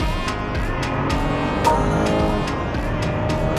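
A long-wheelbase BMW 5 Series accelerates hard in boost mode, its engine holding a loud, sustained drone with layered harmonics and faint rhythmic pulses over a few seconds, with no talking.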